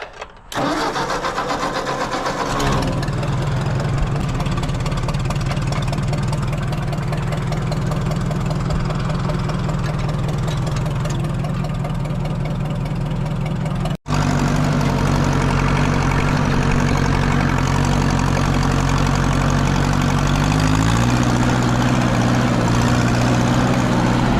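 A Ford F100 pickup engine cranks and catches, then settles into a loud, rough, steady idle with a deep rumble and a brief cut midway before running on.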